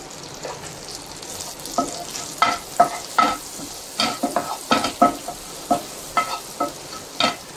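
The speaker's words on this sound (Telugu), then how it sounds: "జీలకర్ర క్రాకిల్ అంటుంది." Cumin seeds crackling in melted butter in a pan, a steady low sizzle broken by a series of sharp pops and spits at irregular intervals, close and fairly loud, with no voices.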